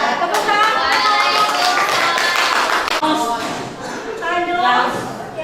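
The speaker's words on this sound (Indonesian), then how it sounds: "Tepuk tangan." Classroom applause after a group presentation, a burst of students clapping close by, mixed with overlapping voices and chatter.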